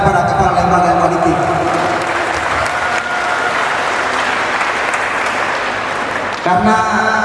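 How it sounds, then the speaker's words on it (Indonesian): Audience applause fills a hall at a university rector's inauguration ceremony, steady dense clapping sustained for several seconds under a faint voice, then briefly dipping before picking up again near the end. "saya minta tepuk tangan kepada Kepala Lembaga Dikti."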